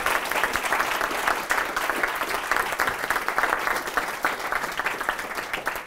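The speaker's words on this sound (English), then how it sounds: "Give them a round of applause." A student session audience applauds three panelists after a talk on how numbers can help study and careers. The clapping is full and continuous, dense with no pauses, at an even level from start to finish.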